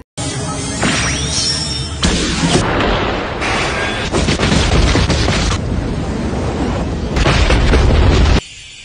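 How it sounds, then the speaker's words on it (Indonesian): A run of heavy, roaring cartoon laser explosion blasts, one booming burst after another, loud and continuous for several seconds before cutting out. "tombol laser merah yang mampu meruntuhkan gedung dengan ledakan dahsyat"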